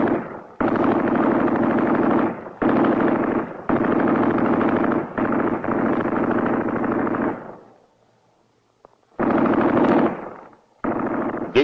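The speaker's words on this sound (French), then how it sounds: "La mitrailleuse prend la relève. La précision ne dépend que de l'œil du tireur." A machine gun fires during military training in long sustained bursts, loud and close. A short pause separates the bursts, and two more bursts follow it.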